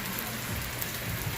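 Heavy rain pours down steadily in a dense, even hiss of drops striking surfaces close by, with no voices.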